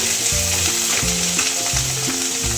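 Khichdi ingredients frying in a pan, a steady loud sizzle with soft scraping and stirring strokes from a spoon, close up and continuous, with no talking.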